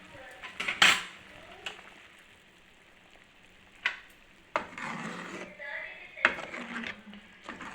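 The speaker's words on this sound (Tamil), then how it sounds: "இப்போ இந்த முட்டையெல்லாம் உடச்சி அதில் ஊற்றணும்" A simmering egg curry in a pan, with scattered utensil clinks, stirring scrapes and a light sizzle at close range as eggs are cracked and poured in; no clear talk.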